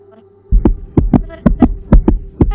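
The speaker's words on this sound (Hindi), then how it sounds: "उनका दिल इतनी ज़ोर से धड़क रहा था" Loud, pounding heartbeat effect under a Hindi horror story, a steady run of heavy paired thumps starting after a short quiet lead-in, close and resonant over a faint low hum.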